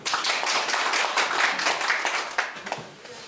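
Audience applause at a public debate forum on local household energy problems, a dense steady clapping from a crowd that holds for about three seconds and then thins out toward the end.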